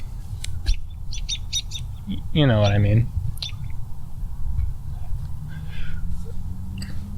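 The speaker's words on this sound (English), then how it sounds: "Lots of birds" Birds chirp outdoors among dandelions, with scattered short tweets and one louder, drawn-out call partway through. A voice talks over the birdsong.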